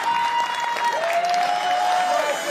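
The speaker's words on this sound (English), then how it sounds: "And the crowd rallying behind Fox." Pro wrestling crowd applauding and cheering in an arena, a steady wash of clapping under a commentator's voice.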